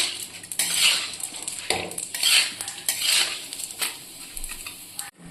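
Rice and lentils tipped into a pot for quick khichdi and stirred, with a metal spoon scraping and clattering against the pot in bursts over a light sizzle and pattering grains, ending in a sudden stop.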